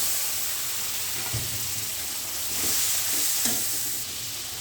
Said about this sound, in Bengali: দিয়ে ভালো করে মশলাটা কষিয়ে নিব কাঁচা গন্ধটা যাতে চলে যায়